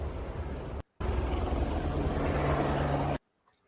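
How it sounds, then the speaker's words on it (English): Helicopters make a steady low engine rumble with broad noise, cut off briefly near the start, then continuing loudly before stopping abruptly; no talking. "You can hear the helicopters and stuff in the background."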